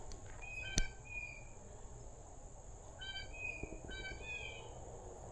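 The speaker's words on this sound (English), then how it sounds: "Oh, listen to those birds." Repeated bright, high chirping phrases of birds in short bursts over a steady high insect-like hum, with one sharp click early on; moderately faint outdoor ambience along the Montour Trail by Valley Brook in October.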